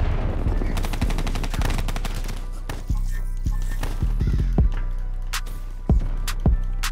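Automatic gunfire in the video game Call of Duty Black Ops 3, with rapid bursts early on, then spaced single sharp shots and short volleys. The shots are loud and close, and no one speaks.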